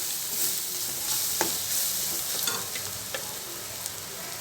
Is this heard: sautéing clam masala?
yes